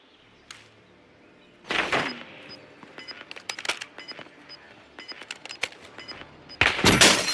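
Video game gunfire in a battle-royale match, with scattered sharp shots and short bursts at varying distances, a loud burst early and another heavy volley at the end, with quieter gaps between.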